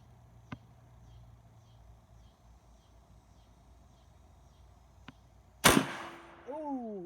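A single sharp report from an AEA .45 caliber air rifle firing a 250 grain bullet at about 3,200 psi, loud and sudden after quiet faint clicks, then brief ringing and a short trailing squeal.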